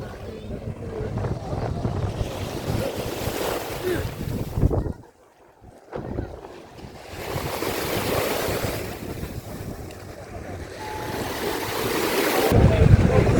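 Sea waves breaking on the beach at Epanomi, Thessaloniki, a steady rushing surf with wind buffeting the microphone, dipping briefly quiet midway before building to a louder swell near the end.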